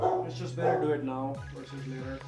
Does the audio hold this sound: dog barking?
yes